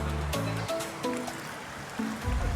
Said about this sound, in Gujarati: જોઈ રહ્યા છો રોડ ઉપરથી કેટલું પાણી આવે છે